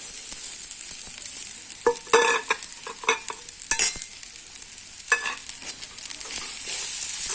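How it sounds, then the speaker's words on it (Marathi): Soaked sabudana with crushed peanuts stirred and sautéed in a pan for upvas khichadi: a steady sizzle beneath repeated scraping strokes of a spoon, close and moderately loud, with no talking. "याला आता व्यवस्थित आपल्याला परतवून घ्यायचं आहे"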